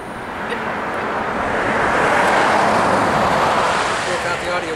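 Traffic on a nearby main highway, a broad continuous roar swelling and easing as vehicles pass, with people talking over it.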